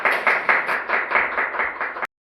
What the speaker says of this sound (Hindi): एक बार ताली बजा दो सभी लोग।